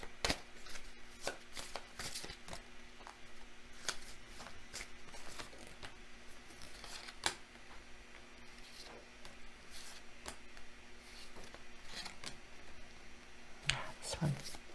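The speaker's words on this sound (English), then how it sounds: "Let's draw more cards." Tarot cards shuffled and drawn by hand during a full moon reading, a steady run of soft riffling and sharp card snaps and flicks close by, with a few louder slaps near the end.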